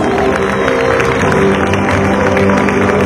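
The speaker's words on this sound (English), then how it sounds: "Give them a big round of applause" A school valedictory crowd applauds and cheers its toppers, dense continuous clapping mixed with voices, loud and sustained across the whole stretch.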